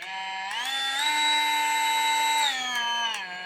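Close by, a Bauer oscillating saw runs with a high, steady whine. Its pitch steps up partway through and drops back near the end, with brief clicks at the speed changes.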